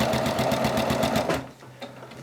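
A sewing machine stitching quilt binding runs in a fast, steady mechanical chatter, loud and close, then stops abruptly partway through, leaving faint room noise.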